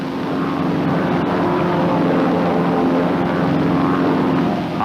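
Radial piston engines of North American T-6 Texan trainers flying in formation, a steady loud droning roar with a throbbing propeller hum that holds constant throughout, no voices.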